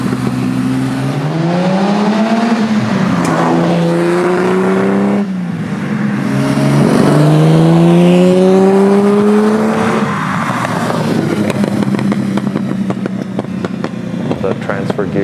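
A 51-year-old Lamborghini Miura engine revs repeatedly, rising and falling in pitch through several throttle sweeps with a rough, musical mechanical edge, close and loud, with someone talking over parts of it.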